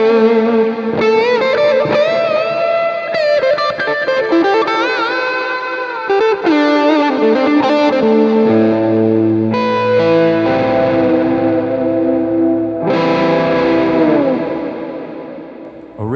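Electric guitar lead run through an Axe-Fx II drive and multi-delay, sustained distorted notes ringing wide with echoing repeats, loud and continuous with no talking.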